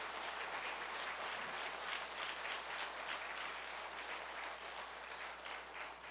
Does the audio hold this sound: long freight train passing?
no